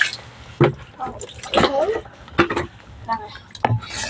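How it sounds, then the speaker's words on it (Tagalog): Dishes are washed under running water at home, with clattering plates, splashes and water bursts in irregular bursts, close and fairly loud, while a person speaks over the sounds. "Hugas na ako guys plato."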